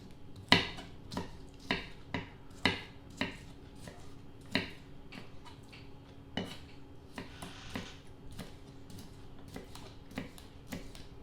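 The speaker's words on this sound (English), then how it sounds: "So I'm cutting this chili pepper first." A kitchen knife chops a chili pepper on a cutting board in a home kitchen, with sharp, crisp, separate strokes at an uneven rhythm, close and fairly quiet, and no talking.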